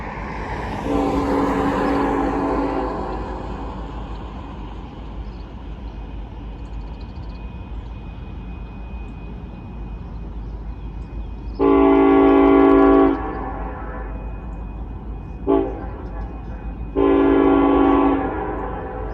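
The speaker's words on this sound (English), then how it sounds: "a Norfolk Southern southbound ethanol train going down the Sandusky District" A Norfolk Southern southbound ethanol freight train rumbles past on the Sandusky District, its horn sounding in three loud chords, the first long and the later two shorter, over a constant rolling drone of wheels.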